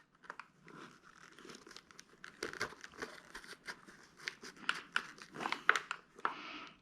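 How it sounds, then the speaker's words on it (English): Velcro strips being handled and pressed into place to secure a Cardo Packtalk Black motorcycle intercom, giving close, irregular crinkling and tearing rasps that build louder toward the end. "I'm going to put some Velcro in there just to hold it all in place."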